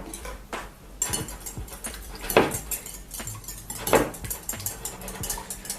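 Milk being stirred into a mixture in a bowl, a utensil scraping and clinking against the sides in irregular close strokes, with a couple of louder knocks, no voices.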